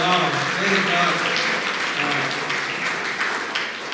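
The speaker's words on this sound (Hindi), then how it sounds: "तो क्यों ना हम उनके लिए जोरदार ताली बजाते हैं।" Audience clapping for graduate students at a Sunday evening Hindi church service, a steady broadband patter of many hands under a speaker's voice.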